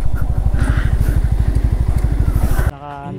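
A motorcycle engine in first gear climbs an incline, throbbing in a loud, steady, rapid pulse close by for nearly three seconds before it cuts off abruptly into a brief voice.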